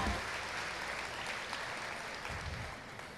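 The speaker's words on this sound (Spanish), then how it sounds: "Recibamos con un fuerte aplauso la palabra de Dios." Steady applause from a church congregation fills the space, continuous clapping at a moderate distance with no break.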